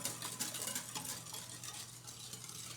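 Canola oil being mixed into cake batter for mamon, giving a soft, steady wet stirring sound with light scraping against the bowl, close and continuous, with no talking.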